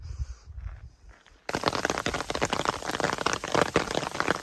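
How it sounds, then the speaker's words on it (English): Soft, quiet light rain on a mountain trail gives way abruptly to a loud, dense clatter of small hail pelting close by in rapid, irregular ticks. "I was enjoying light rain, but it's just turned to hail."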